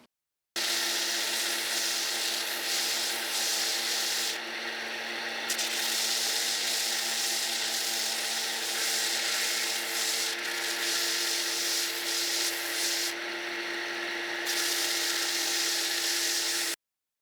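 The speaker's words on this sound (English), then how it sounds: "so I just came back from the belt sander, and that was pretty monotonous" A belt sander steadily grinds and shapes a wooden marking-knife handle, a loud continuous abrasive whir with a few brief changes in pitch as the piece is moved.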